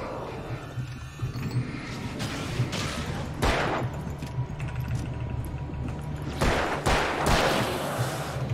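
Sustained gunfire in the Alan Wake action game, with dense crackling shots over a steady low engine-like rumble and sharper loud bursts standing out near the middle and end.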